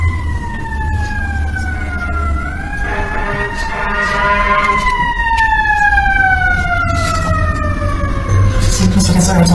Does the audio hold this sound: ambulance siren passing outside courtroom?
yes